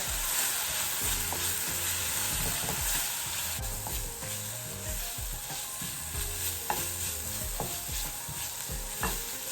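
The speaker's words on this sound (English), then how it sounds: "I'm going to mix it together." A spoon stirs dal puri filling with turmeric in a pan, giving repeated rhythmic scrapes and knocks over a steady sizzling hiss close by, with no voices.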